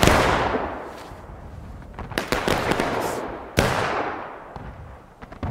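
Musket gunfire in a Civil War-style skirmish video game, a ragged series of sharp overlapping shots with two louder bursts, echoing over a wide outdoor battlefield.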